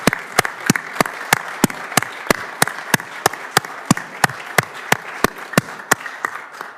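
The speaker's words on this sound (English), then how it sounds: "Let's give her a big round of applause." A single person claps steadily at a Senate committee hearing, about twenty sharp, evenly spaced claps over quiet room tone with no voices.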